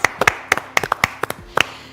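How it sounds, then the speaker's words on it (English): Scattered, uneven hand claps from a small group at an inclusive well-being festival in Wales after a brass band performance, sharp and close, with a dozen or so separate claps over two seconds and no talk. "Another round of applause."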